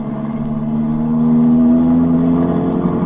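A taxi car in a radio drama drives off fast, its mid-pitched engine droning and rising steadily as it accelerates, a continuous motor hum with a faint clatter.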